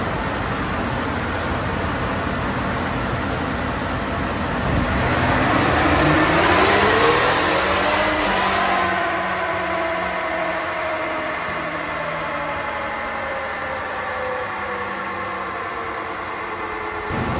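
A Toyota Tundra's 3.4L twin-turbo engine runs steadily, then revs up loudly to the rev limiter around the middle and falls back to a sustained drone, close and continuous.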